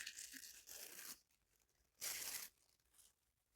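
Paper being cut by hand for collage backgrounds: short rough tearing and crinkling bursts, one long stroke then a sharper one and a faint last snip, close and quiet with gaps between.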